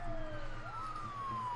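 An ambulance siren from SimCity wails in a sweeping rising and falling tone over a low city hum, brief and moderately loud.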